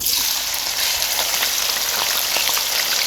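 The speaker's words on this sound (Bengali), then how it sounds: "পেঁয়াজটা ভাজা ভাজা করে দেবো" Onion frying in ghee in a pan, a dense close sizzle with fine crackling pops, steady and fairly loud for a few seconds without any talking.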